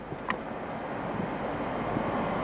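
A Bristol Britannia turboprop airliner, just landed at RAF Kemble and shutting down, gives off a steady, broad engine roar mixed with wind noise, loud and unbroken from start to finish.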